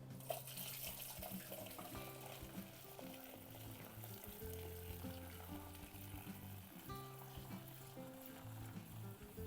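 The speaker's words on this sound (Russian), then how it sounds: "Процеживаю наш бульончик." Broth for pea soup being strained in a kitchen, a continuous faint stream of pouring liquid with soft splashing, steady throughout with no talk.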